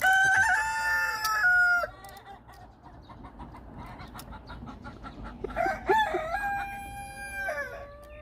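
Two loud rooster crows ring out close by, separated by a few seconds of quieter farmyard background.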